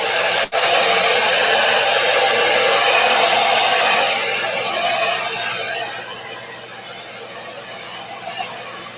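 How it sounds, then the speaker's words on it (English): A handheld hair dryer blows steadily over wet gesso on a clipboard, giving a loud, close, constant whoosh that softens slightly toward the end. "I should dry this off again, just to be sure that that gesso's dry"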